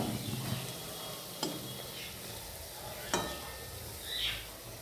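Drumstick flower fritters sizzle softly in hot oil, a faint steady crackle broken by a couple of sharp clicks from a utensil.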